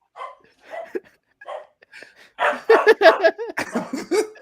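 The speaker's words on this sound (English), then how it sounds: "Is this dog gonna wake him up?" A dog barks several times in quick bursts, close and fairly loud, after quieter murmuring voices and shushing at the start.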